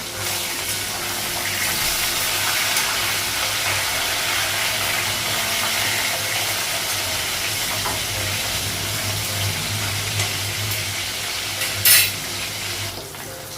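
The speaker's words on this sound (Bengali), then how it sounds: "মাছগুলো ভাজা হয়ে গেছে" Fish rubbed with turmeric and salt frying in hot oil in a wok, a steady broadband sizzle running throughout with a brief sharp clatter near the end.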